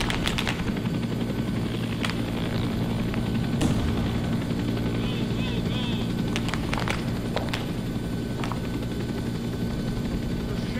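Steady rotor drone of two helicopters flying in a video game fills the background throughout, with occasional sharp bursts and a voice speaking over it.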